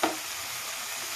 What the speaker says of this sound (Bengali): আমি মশলাটা কষাতে থাকছি।